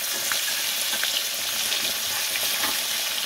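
Prawns fry in hot oil in a pan, giving a dense, steady, close sizzle throughout with faint scraping as pieces are turned over one by one.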